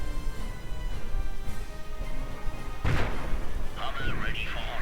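A Hummel self-propelled artillery piece fires in a video game, giving a single booming shot midway through a steady, busy battle din, with someone speaking over it.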